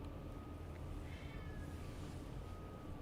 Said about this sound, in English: What's that noise? It's the cat is being crazy.